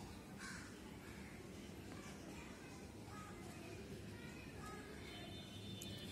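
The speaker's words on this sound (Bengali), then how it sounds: "আর এটা হচ্ছে পাখি, দূরের আকাশে পাখি" Crows cawing outdoors, several harsh calls over a dense, steady background of ambient noise, moderately distant and fairly loud.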